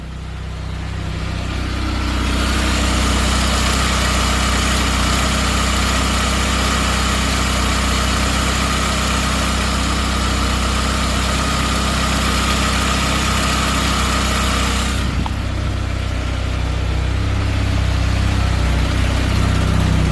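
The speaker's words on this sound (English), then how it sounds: "Hear how silky smooth that engine is" A Saab 9000 engine idles steadily with a low, smooth rumble, the exhaust note slightly muffled by a trash bag over the exhaust, running continuously with no voices.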